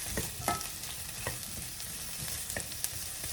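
Sausages going into a pan of golden-brown onions: a close, steady frying sizzle with soft stirring scrapes and occasional brief clicks of a utensil against the pan.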